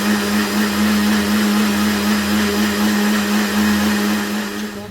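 A kitchen blender runs steadily, close and loud, whirring a mixed banana and chikoo shake. The motor drone holds an even pitch throughout and trails off slightly at the end.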